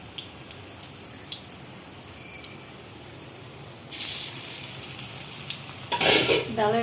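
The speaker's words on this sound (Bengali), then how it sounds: "তো আমি এই ডালের বড়া চুলায় দিয়ে দিলাম।" Lentil fritters (dal bora) sizzle in hot oil on a stove. The hiss swells loudly twice as more batter goes in, with light clinks of a utensil against the pan.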